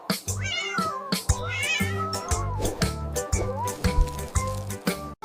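Cat meowing several times in a row, with bright drawn-out cries, some rising into a caterwaul, over a rhythmic musical backing in a children's phonics song.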